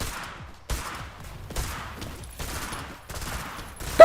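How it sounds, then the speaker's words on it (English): Assault rifle fire in a competitive video game tournament match: five or six separate bursts of rapid shots, moderately loud and evenly spaced, with a sharper, louder burst at the very end. No one is talking. "assault rifle is spitting fire"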